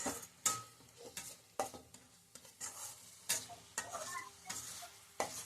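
Ground cumin and garam masala fried in oil in a pan for a vegetable dish, with a spoon scraping repeatedly in a rhythmic series of short stirs over a faint, quiet sizzle.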